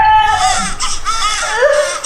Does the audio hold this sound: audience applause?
no